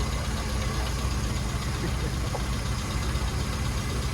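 A carbureted classic car's engine idles steadily ahead of a test drive at a roadside tuning session, a continuous low rumble that stays even and fairly close throughout, with no voices.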